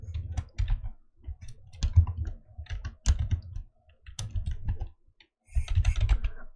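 Keys on a computer keyboard clack in short bursts as code is typed, close and distinct, with brief pauses between groups of keystrokes and no voice.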